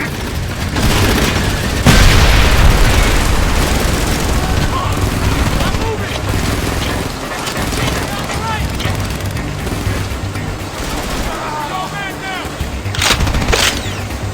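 A tank is destroyed under heavy gunfire in the video game Frontline: Fuel of War, with loud booming blasts, bursts of rapid shots and rumbling explosions filling the whole stretch, and voices mixed in with the battle.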